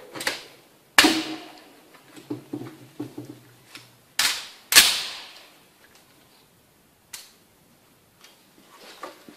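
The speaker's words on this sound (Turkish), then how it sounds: "5 tane teker teker 25 metreye atacağım." A Sarsılmaz SAR 109T pistol fires single semi-automatic shots at a 25-metre range target: four or five sharp, loud cracks, spaced irregularly by a second or more, each with a short decaying echo.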